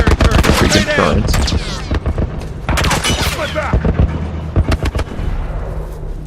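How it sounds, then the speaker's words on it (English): A military turret in The Last of Us fires loud, rapid bursts of gunfire, with dense back-to-back volleys, brief pauses and more bursts. "Some kind of military turret."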